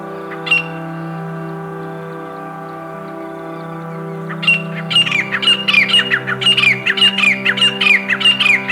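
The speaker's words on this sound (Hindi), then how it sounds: "ये आवाज़ ग्रे फ्रैंकोलिन की थी, जिनकी संख्या 5 से ज़्यादा होगी।" A flock of more than five grey francolins in the plains of Dholpur, Rajasthan, calling loudly and close by: a few sharp squawks, then a rapid repeated run of harsh, ringing calls over a steady background drone.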